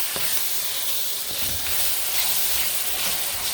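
Sofrito cooks in a pot for Puerto Rican rice, a steady bright sizzle and hiss that holds evenly close up with no talking.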